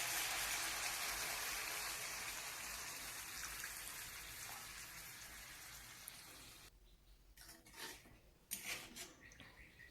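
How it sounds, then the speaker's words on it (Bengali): Water poured into a pot of rohu fish curry with cauliflower and potato, cooked without onion or garlic: a faint, steady rushing pour that gradually fades, followed by a few soft clinks and scrapes of a utensil. "তারপরে জল দিয়ে দেবেন।"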